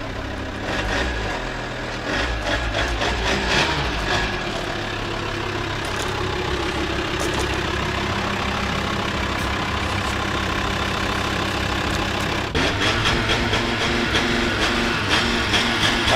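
A used diesel pickup truck with a replaced turbo idling steadily, a low continuous engine rumble with faint mechanical clatter, close and unbroken throughout, with no voices.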